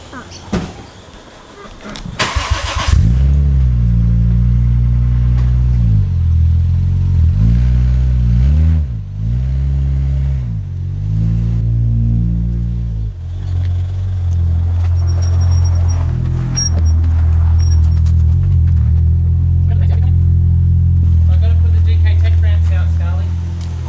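A Toyota JZX90 car engine starts after a brief stutter and revs in several rising blips before settling into a steady, loud idle, with voices and a faint high whine over it.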